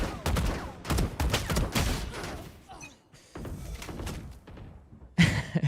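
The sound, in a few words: gunfire bursts in the video game Valorant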